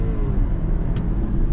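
A BMW X3 30e plug-in hybrid pulling hard at full throttle, a steady, loud, dense engine and road rumble from inside the cabin with a faint whine, no speech.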